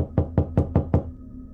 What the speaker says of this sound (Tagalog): Bigla akong nagising na may marinig akong katok.